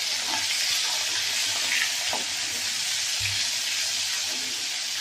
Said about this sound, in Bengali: মাছগুলোও ভাজা হয়ে যাচ্ছে